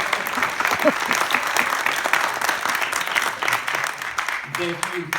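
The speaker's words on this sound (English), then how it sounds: "How about another round of applause for our moderator and all of our candidates?" A room clapping at a 2018 Oceanside, California District 1 candidate forum, an even round of applause for the moderator and candidates that carries on throughout, with a voice speaking over it near the end.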